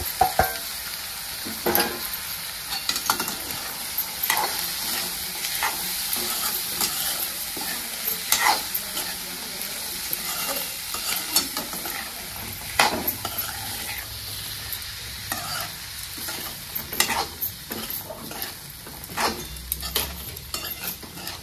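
Soaked chickpeas frying with tomato in oil, a soft continuous sizzle broken by frequent spoon scrapes and light taps against the pan, fairly quiet and close, with no talking.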